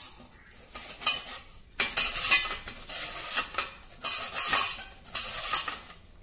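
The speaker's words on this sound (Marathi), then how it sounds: "इथे या प्रकारच्या जाड छिद्राच्या किसणीवर आता आपल्याला बटाटा किसून घ्यायचा आहे" Peeled raw potato rubbed over a coarse, wide-holed grater, rough rasping scrapes in repeated strokes with short pauses, close and fairly loud with no voices.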